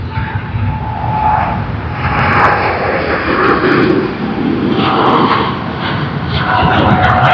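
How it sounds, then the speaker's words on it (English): A Thai Airways airliner takes off at Sydney Airport, filling the air with a loud, steady, broad engine roar that holds for the whole stretch. "That was a wonderful takeoff of Thai Airways"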